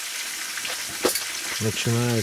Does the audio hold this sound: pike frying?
yes